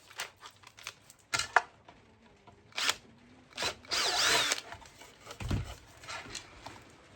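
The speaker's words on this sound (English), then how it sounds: "Put the drill bit in the drill proper" An electric drill, with its bit fitted for building a clay target launcher, whirs in several short bursts with pauses between, close by, the motor pitch rising and falling, plus light handling clatter.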